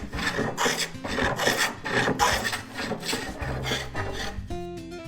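Hand plane shaving a thick, wide monkeypod slab for a tabletop: rhythmic, loud raspy strokes of wood being planed, repeated several times in quick succession, close up with no talk.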